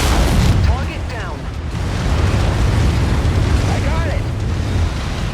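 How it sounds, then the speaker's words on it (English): Deep, rumbling explosions boom and roll in the MechWarrior Online video game, loud and sustained, with brief whooshing sweeps layered over the heavy low-end blasts. "The explosions are gratifying in this game."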